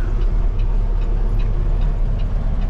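A semi truck engine idles low and steady as the rig creeps slowly over a dusty gravel track, a deep continuous rumble close by with faint rhythmic ticking above it.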